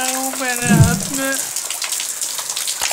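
Rainwater drops fall onto an outstretched hand, making a steady, close wet patter that continues after a short spoken phrase at the start.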